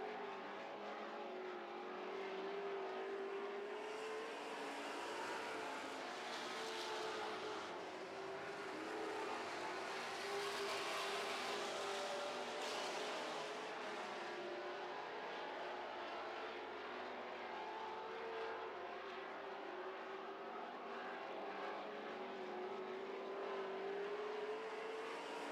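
Super stock race cars roar around an oval track at a late-race white flag, a steady distant engine drone with passing swells and no talk.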